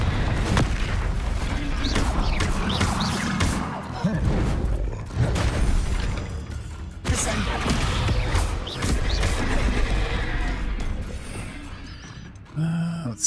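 Hogwarts Legacy gameplay in which the Confringo blasting spell sets off booming explosions and crashing debris amid dense game noise and music. The loud mix runs continuously, and a player talks over it.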